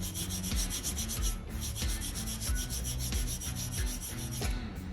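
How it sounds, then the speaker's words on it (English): Chrome on an old Nikota generator being polished by hand, a continuous close rubbing and scrubbing sound with a rhythmic back-and-forth pulse that runs unbroken for several seconds. "I'm just gonna try to polish up the chrome"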